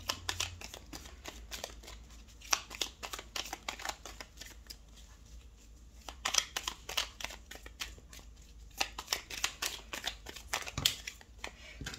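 Tarot cards being shuffled before a 13-card reading with an Etteilla deck, a steady run of crisp riffling and flicking bursts that keeps going close to the microphone, with no voices over it.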